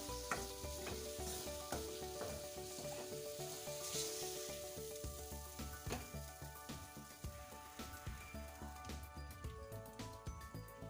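Ground raw onion paste sautéing for an egg curry, with a steady close sizzle and frequent scraping stirs of a utensil against the pan throughout, no talking.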